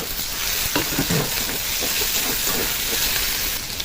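Chopped tomato fries in a mutton curry masala of ginger-garlic paste. The sizzle is loud, close and hissing, with a few stirring scrapes near the start and no talking.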